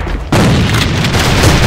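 A grenade detonates in the shooter A.V.A on the Dock map: an abrupt loud blast hits just after a quiet start, then a thick low rumble with debris noise carries on to the end.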